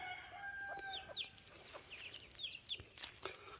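Chickens, including a brooding Rhode Island Red hen, cluck and chirp softly in a quiet farmyard setting, with a few short calls repeating irregularly, faint and slightly distant.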